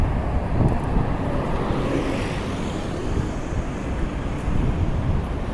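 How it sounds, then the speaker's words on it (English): Wind gusts and roars steadily into the microphone beside the water along a waterfront street, a broad continuous rush with no talking. "Looks like it might be a little bit windier down here"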